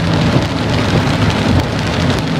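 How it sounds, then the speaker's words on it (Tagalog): Heavy, unbroken rain pours down in Mindoro during a flood, a dense steady roar that holds at an even level from start to finish with no letup. "Ito talagang walang tigil po."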